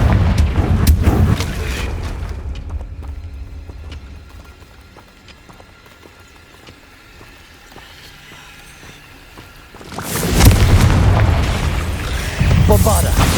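Loud, booming spell blasts of Confringo in Hogwarts Legacy, a heavy explosion at the start, a quieter rumbling lull, then another powerful burst of booms near the end, with a voice speaking.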